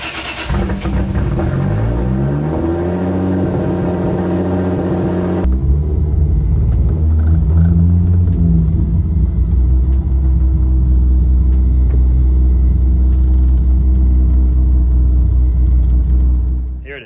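An 800 hp Toyota Supra with a built 2JZ-GTE engine rumbles loudly at close range, revving up through rising pitch sweeps before settling into a deep, steady idle.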